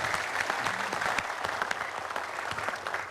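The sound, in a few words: audience applause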